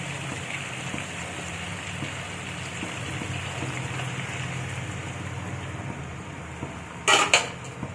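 Water pours into a pot of cooking meat, a steady rushing, hissing flow close by, followed by a few brief metallic clatters of a utensil near the end.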